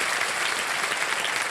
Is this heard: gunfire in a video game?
no